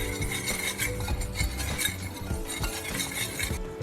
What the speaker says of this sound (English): I'm gonna add the rest of my seasoning that I reserved earlier on and mix that in thoroughly